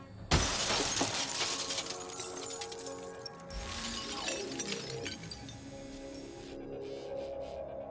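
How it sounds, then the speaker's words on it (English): A robot's small ramrod smashes a car window, a sharp sudden shatter of glass followed by several seconds of tinkling, crunching fragments and mechanical scraping, close and loud. "the robot has been fitted with a small ramrod designed to break through glass"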